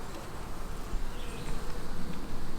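Honey bees buzz densely and close during a morning hive inspection, a continuous wavering drone from many insects at once, with no voices.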